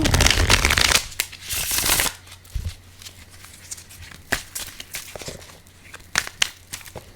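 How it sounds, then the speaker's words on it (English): Neon Rider tarot deck being riffle shuffled, a loud burst of flapping cards followed by scattered soft taps, crinkles and handling noises as the deck is squared up, close by. "I shuffled extremely well. One more riffle."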